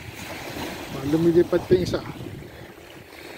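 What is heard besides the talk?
sea waves at Arenal beach in Mallorca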